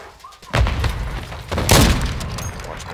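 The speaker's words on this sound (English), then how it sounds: "Throw your stun grenade!" A stun grenade goes off in a first-person shooter game, with two loud, close booming bursts about a second apart, each ringing briefly before fading.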